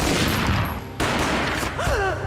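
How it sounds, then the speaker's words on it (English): Gunfire in the Max Payne PC video game: a burst of booming shots and a dense volley up front, a brief drop, then more loud firing mixed with whooshing, swooping game effects. "A gunshot boomed and she fell down in slow motion."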